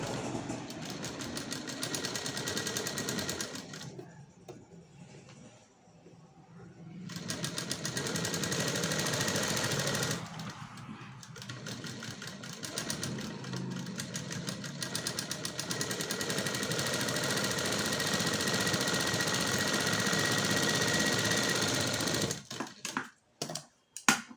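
A sewing machine runs in long, steady stitching bursts across lining cloth, pausing briefly between runs, loud and close, with no voices.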